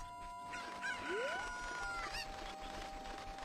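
Chickens cluck and crow in the video game Zelda Ocarina of Time Randomizer, a rising rooster-like call over a steady background hum of game audio, moderately quiet and with no talking.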